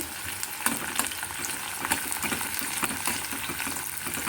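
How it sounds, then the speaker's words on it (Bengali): Onions frying in a pan for a chhana bahari dish, a steady dense sizzle with faint crackles and stirring clicks, continuous and fairly close throughout. "পেঁয়াজটা যখন আমার একটু লাল লাল করে ভাজা হবে"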